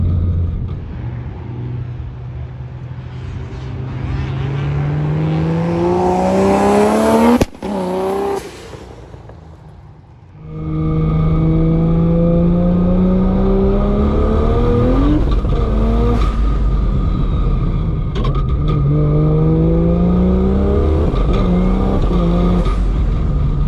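A Barra-engined GT350 with a PPG sequential gearbox accelerates hard through no-lift upshifts, engine pitch climbing and dropping with each shift, exhaust crackling and popping, loud and close from inside the car.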